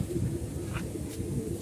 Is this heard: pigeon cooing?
yes